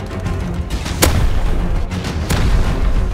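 Two sharp, heavy rocket blasts from the game Rust burst out about a second apart over a constant rumbling background, loud and close, with no talking.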